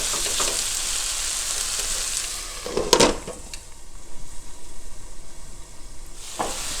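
Spinach wilting in a hot pan, a loud continuous sizzle broken by a sharp clatter of stirring near the middle, then a softer, crackling fry, close up and with no talking.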